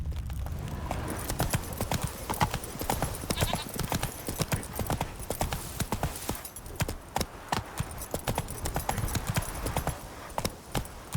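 Horse hooves clip-clop rapidly and steadily in a fast gallop through The Witcher 3: Wild Hunt, fairly close and continuous with no talk over them.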